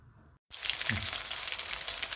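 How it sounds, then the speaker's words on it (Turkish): After a brief silence, hot oil erupts into a loud, steady sizzle with close crackling and spattering as breaded Turkish paçanga börek pastries fry. "Bunları kızmış yağda kızartıyoruz arkadaşlar."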